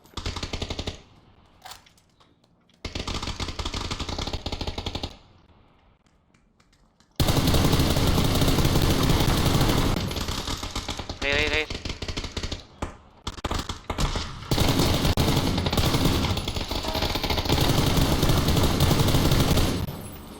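An M4 rifle fires in PUBG during an 8 vs 8 fight among shipping containers, with loud sustained volleys of rapid automatic shots, brief pauses, and then long continuous bursts.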